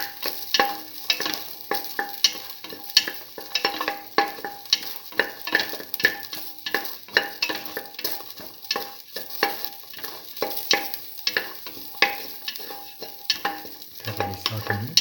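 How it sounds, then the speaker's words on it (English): Ginger, garlic and shallots sautéed hard in a hot pan, a continuous sizzle with quick repeated scraping strokes of a spatula, close up and busy, with no voices. "Heavily sauteing it."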